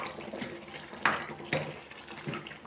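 Water poured from a rinsed mixer jar into simmering chicken gravy, a splashing trickle with a few louder gushes at irregular moments, close and alone.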